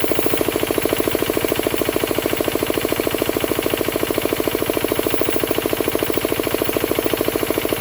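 A diesel air compressor engine runs close by, a steady, rapid, evenly pulsing knock and drone with no break and no voices.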